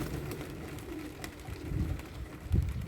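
Pigeons coo softly inside a garden allotment loft, low throaty murmurs rising and falling in a steady, close, unhurried chorus with no talking.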